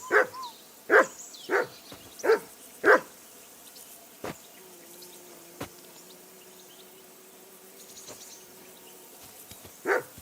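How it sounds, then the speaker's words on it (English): A dog barks in a medieval role-playing video game, Kingdom Come: Deliverance II: a quick run of loud barks, then scattered single barks, over an outdoor background of insects and crickets. "Call that dog to heel."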